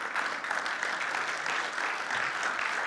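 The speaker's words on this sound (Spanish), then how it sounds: "dale el aplauso al Señor, ¿sí?" A church congregation applauds during a sermon, a continuous, even patter of many hands heard at a fair distance and fairly quietly, with no break for nearly three seconds.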